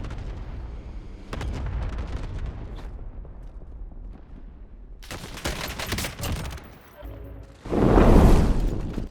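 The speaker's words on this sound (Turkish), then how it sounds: "Hemen oraya bombalar yağmaya başlıyor. Pat demet şeklinde açılan bombalar etrafa yayılıyorlar." Cluster bomb air strike in Call of Duty Warzone: a burst of loud, dense explosions crackling and rumbling in quick succession, with a heavy booming blast near the end.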